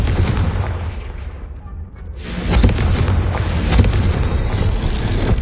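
A fiery blast from the Confringo spell in a video game, a deep rumbling boom swelling after a brief lull and rolling on with heavy low-end roar, no voices.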